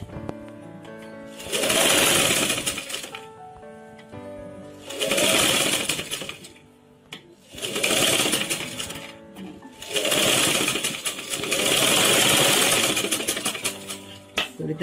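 Sewing machine stitching the rounded edge of a sleeveless umbrella frock, running in four long steady bursts separated by short pauses, close and fairly loud.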